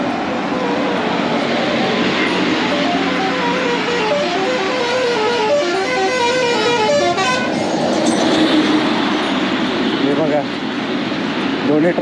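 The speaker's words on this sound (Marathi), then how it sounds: "एकमेकांना ओव्हरटेक करत बसले आणि नुसतं कंटिन्यूस हॉर्न" Busy road traffic with vehicles overtaking each other, horns honking repeatedly and engines droning, while people talk over the din.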